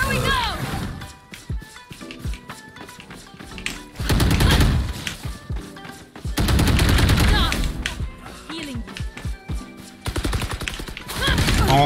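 Gunfire in the tactical shooter Valorant, repeated rapid bursts and single shots in dense clusters, loud and close, with a player talking over parts of the action.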